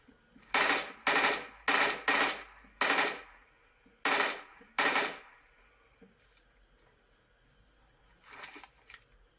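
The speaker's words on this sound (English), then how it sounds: "somebody's shooting at me." Gunfire in PUBG played on a smartphone: a string of loud, evenly spaced single shots rings out close by, then quiet, followed by two fainter shots near the end.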